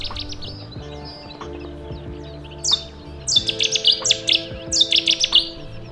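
A small bird sings a series of bright, high chirping phrases, repeated several times, over a steady low background hum, at the Oostvaardersplassen nature reserve in the Netherlands.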